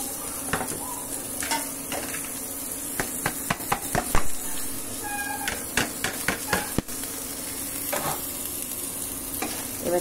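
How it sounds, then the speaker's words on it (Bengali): Rice frying in ghee with cardamom and cinnamon for chicken biryani, a steady close sizzle broken by sharp scraping stirs of a spoon against the pot, no talking. "চালগুলো এবার ভালো করে ভেজে নিব।"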